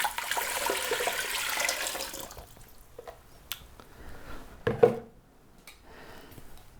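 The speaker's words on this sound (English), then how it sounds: "all I'm going to do is put in 6 cups of water" About six cups of water poured into a pressure cooker from a blender jar, a steady rushing splash for two seconds that quickly tapers into faint drips and a few light knocks, with no talking.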